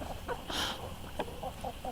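Backyard chickens cluck softly while pecking at frozen eggs and eggshells outdoors, a few short clucks and scratchy bursts at moderate distance, with no voices.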